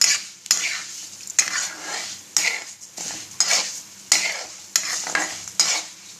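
A spoon scrapes and stirs moong dal as it roasts golden in a pan, with regular close scraping strokes about once a second over a soft sizzle.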